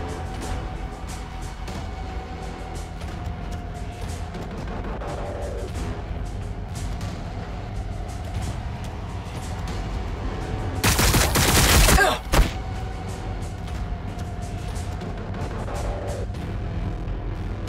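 Warhammer 40,000 Battlesector gunfire crackles in a steady barrage of distant shots, swelling into a heavy close burst near the end before the quieter firing resumes.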